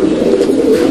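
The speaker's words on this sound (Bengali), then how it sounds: "এই 3 পিস কবুতর এখানে আছে" Pigeons at a seller's coop give a low, continuous cooing that is close and fairly loud throughout the brief moment.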